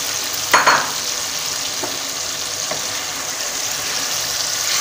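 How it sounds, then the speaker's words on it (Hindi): White lobia beans drop into frying masala with a brief splash and scrape, followed by a continuous close hiss and sizzle with faint stirring knocks, no speech. "अब इसमें हम डालेंगे लोबिया।"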